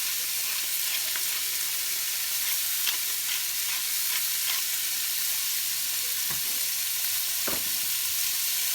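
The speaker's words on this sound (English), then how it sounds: "We're going to cook this down until everything softens up a little" Seasoned food cooking down in a pan, giving a loud, continuous sizzle with occasional stirring scrapes and no one talking.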